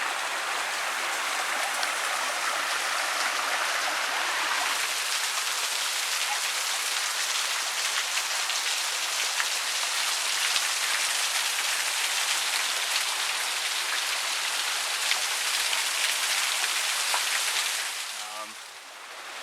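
Waterfall beside the Philo Mine adit on a remote mountain hike, a steady broad rushing roar filling the scene at close range, continuous and unbroken before easing slightly at the end.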